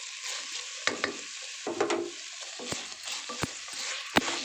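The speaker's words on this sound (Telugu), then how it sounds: "గోంగూర ఈ చికెన్ మొత్తం మిక్స్ అయిపోవాలి, మొత్తం కలిసిపోవాలి" Gongura leaves being stirred into chicken frying in a pan for gongura biryani, a steady sizzle with scraping strokes and a few sharp clinks of the spoon against the pot at irregular intervals, close and moderately loud.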